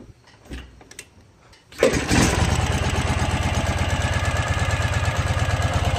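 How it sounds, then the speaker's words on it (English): Baja motorcycle engine cranks over and catches after a couple of faint clicks, then settles into a loud, steady, rapidly pulsing idle close by. "I can start the bike up and let you hear it one more time"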